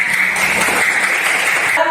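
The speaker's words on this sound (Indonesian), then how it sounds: "Tepuk tangan dulu semua." Schoolchildren in a classroom clap their hands together on a teacher's cue, a loud continuous wash of clapping for about two seconds that stops abruptly near the end.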